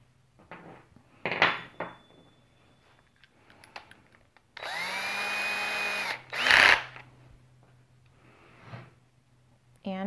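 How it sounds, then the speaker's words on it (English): A power drill whirs steadily for about a second and a half driving a screw into wood, then a short second burst follows, amid scattered handling clicks and knocks. "Now, let's put a screw into this piece of wood."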